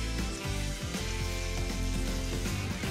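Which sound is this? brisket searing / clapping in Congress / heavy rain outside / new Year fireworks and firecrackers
brisket searing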